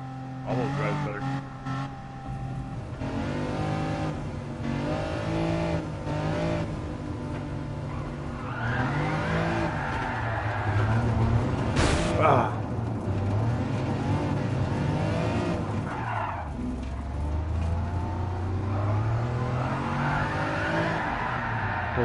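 A car drifts in Gran Turismo, engine revving and rising and falling with long tire squeals through the corners. People talk over it at times.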